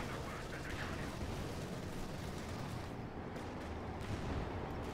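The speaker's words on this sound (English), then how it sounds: "Shots being fired here" Gunfire in the real-time strategy game Company of Heroes 2 rattles on as a dense, distant-sounding barrage of shots and rumbling explosions over a busy battlefield din.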